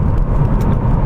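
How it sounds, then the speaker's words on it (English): A 2016 Volvo V40 Inscription D2 is heard from inside, its engine giving a steady, loud, low drone through a brief moment of driving, with no speech. "these gear changes, for example, from 5th down to 4th there"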